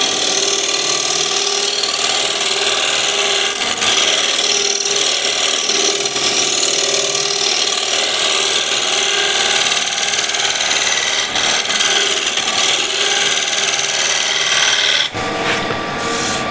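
Steel scraper shaping a cherry wood bowl on a lathe: a steady, loud rasping hiss over the lathe's hum, near and continuous, ending abruptly as the tool lifts off.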